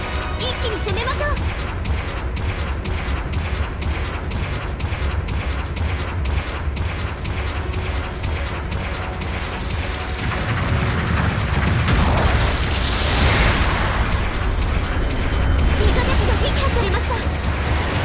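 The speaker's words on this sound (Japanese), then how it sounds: "後方部隊からの支援砲撃が来ます。" Support artillery bombardment in the mobile suit battle game Gundam Battle Operation 2, heard as continuous booming impacts and crashes over dense game noise, growing louder and heavier midway with a burst of explosions.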